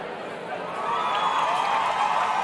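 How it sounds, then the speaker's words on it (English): Crowd murmur and faint cheering in a music track intro, a steady wash of many distant voices that swells slightly louder halfway through. "And we've got the crowd noise."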